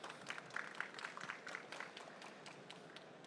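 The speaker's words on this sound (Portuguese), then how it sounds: "Salva de palmas para a Cláudia" Applause from a seated audience at a banking-technology industry panel, steady dense clapping held at a low, distant level for the whole stretch.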